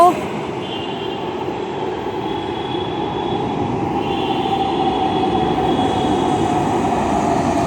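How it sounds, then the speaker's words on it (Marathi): A metro train rumbles steadily into a station, its low mechanical roar building slightly as it arrives, with faint high-pitched squeals and murmuring voices around. "आलेली आहे मेट्रो"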